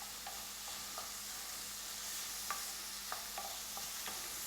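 Sauce with a complete herb seasoning is stirred in a pot while cooking Ghanaian banku, with a faint, steady simmering hiss and a handful of soft, scattered spoon clinks.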